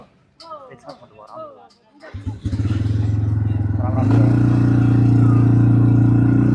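An ATV starts up for a ride in Rajasthan. Someone talks briefly, then the engine catches with a rough sputter and settles into a loud, steady droning idle that rises slightly in pitch and holds.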